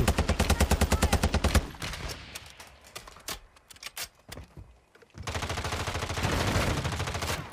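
Automatic weapon fire in Warzone 2, a loud rapid burst opening the scene, then scattered single shots and quieter game noise, followed by another sustained rapid burst near the end.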